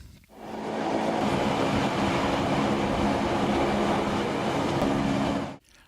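Swiss rack railway train climbing from Wengen toward the Jungfrau, a steady, loud rumbling roar of the cogwheel drive and carriages that holds for several seconds with no voices and cuts off abruptly.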